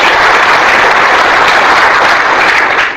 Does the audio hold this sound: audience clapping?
yes